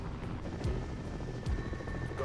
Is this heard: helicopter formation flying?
yes